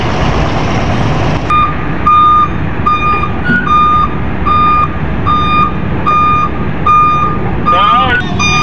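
A truck reverses on the ramp of a passenger ferry bound for Marinduque, Romblon or Masbate, sounding loud, evenly spaced electronic reversing beeps over a constant heavy engine rumble.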